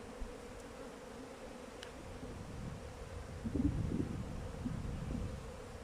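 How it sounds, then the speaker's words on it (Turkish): A steady low hum of many honeybees buzzing around a two-storey hive, swelling slightly louder midway, with a faint breeze in the background. "rüzgar olmasına rağmen arı saldırmıyor bak."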